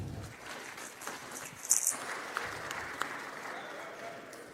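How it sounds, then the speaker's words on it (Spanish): Steady applause from the audience at a panel event, a dense, even patter of many hands sustained throughout at moderate level, with a few brief brighter clicks. "Un fuerte aplauso."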